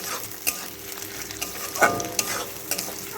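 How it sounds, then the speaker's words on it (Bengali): Fish roe fries with onions in a pan, sizzling steadily while a spatula scrapes and stirs in a few distinct knocks, close up with no talk. "মাছের ডিম দিয়ে এটাকে ভালো করে পেঁয়াজের সাথে মিশিয়ে ভেজে নেব আর খুন্তি দিয়ে একটু একটু করে ছাড়িয়ে দেবো মাছের ডিমগুলো"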